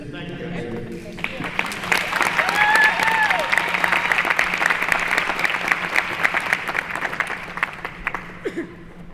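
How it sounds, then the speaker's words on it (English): An audience claps through a Special Olympics celebration dinner, a full, steady round of applause with a few whoops and light chuckles, while a voice speaks faintly over it. "It's a deserving round of applause"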